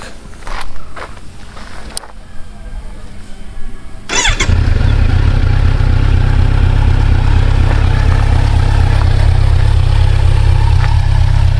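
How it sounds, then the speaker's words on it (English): A Kawasaki Z streetfighter motorcycle starts up with a short cranking burst, then settles into a loud, steady, throbbing idle that runs on close by, with a few clicks beforehand and no talk. "when you turn on the bike"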